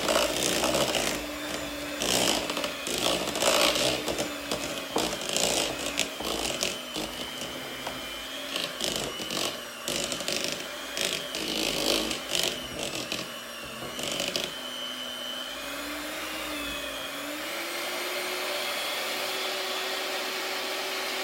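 Apple cinnamon bread batter with milk being beaten by an electric mixer, a loud steady motor whine with rattling and scraping in the bowl that changes pitch near the end.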